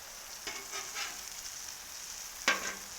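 Breaded fresh mozzarella frying in a pan, with a steady close sizzle crackling throughout and a couple of brief sharper spits and pops, no talking.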